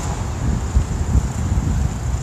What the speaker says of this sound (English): find a spot where there's some buildings and we don't have to deal too much with the wind